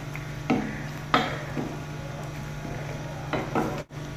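Mutton pieces are mixed with turmeric and salt in a pot, giving a few soft scraping and stirring strokes and light knocks against the metal over a low background hum.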